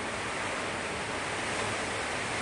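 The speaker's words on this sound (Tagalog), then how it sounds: "Malakas na ang hangin guys." Typhoon Tino's strong wind blowing as a constant, heavy roar, an even wall of rushing noise that barely varies over the short stretch, with nobody talking.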